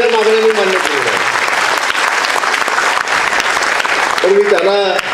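An audience at a World Environment Day event breaks into sustained applause, dense clapping from a crowd, with a voice heard briefly at the start and again near the end.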